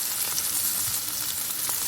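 Tilapia fries in a pan at home for lunch, giving a steady, close sizzle and crackle throughout with a few brighter pops and no talking.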